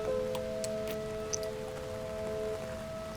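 Steady rain from the video game Doki Doki Downpour falls in a soft, even patter throughout, with a few brighter drips over sustained tonal background music.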